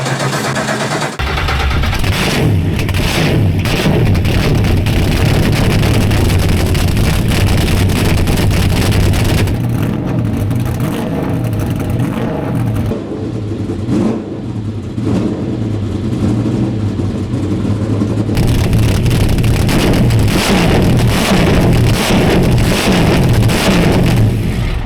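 A NASCAR stock car with a carburettor-fed engine fires up after a brief quiet start and runs loud and continuous for about 24 seconds, a deep steady roar with rougher blipping passages and some wind buffeting, no talk.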